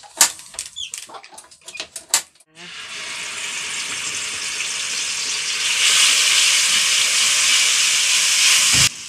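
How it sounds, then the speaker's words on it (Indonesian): Vegetables hit a hot pan for stir-frying: after some clattering knocks, a loud, steady hissing sizzle takes over, swells halfway through, then cuts off abruptly. "Terus lo jadi tumiskan ya."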